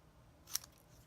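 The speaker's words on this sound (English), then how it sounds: "I need to trim this end, so I'm going to cut off just a little bit." A single crisp snip of scissors trimming a strip of card paper, one short sharp cut in an otherwise quiet room.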